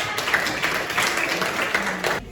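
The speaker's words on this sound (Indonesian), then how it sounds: "Beri tepuk tangan." A class of students claps together in a classroom, a moderate, fairly even patter of hands lasting a couple of seconds before cutting off abruptly.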